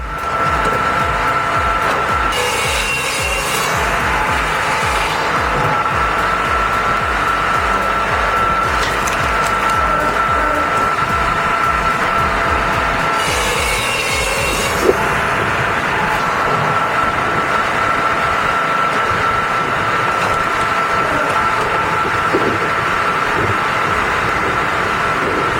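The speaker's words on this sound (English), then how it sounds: "This chip-splitting machine slices logs into perfect kindling" Big firewood processor with a chip-splitting unit slicing logs into kindling, a loud, constant mechanical roar with a steady tone, broken by bursts of crunching wood and one sharp knock, no voices.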